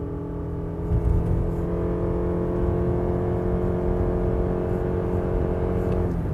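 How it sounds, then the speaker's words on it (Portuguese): A Lexus RX 450h+ plug-in hybrid accelerates hard from a standstill on its combustion engine, a steady loud engine drone with rising harmonic whine holding for several seconds, no talk over it. "já ligou o motor a combustão"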